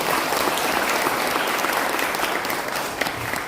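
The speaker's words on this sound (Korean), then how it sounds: "다시 한번 박수 부탁드립니다." Audience at a lecture on Syngman Rhee's achievements breaks into sustained applause, a dense, steady wash of many hands clapping throughout, loud and even with no voices standing out.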